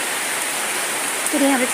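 Rain falls outdoors while the sun shines, giving a steady, dense hiss throughout, with a voice briefly rising over it near the end.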